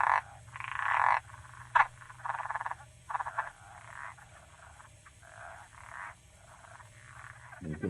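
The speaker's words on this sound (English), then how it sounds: "they usually have what I consider like a laughing noise, a little chucking noise and a laugh." Southern leopard frog calling in a chorus, a run of chuckling, laugh-like croaks in repeated bursts over about eight seconds, fairly close and clear over a steady low hum.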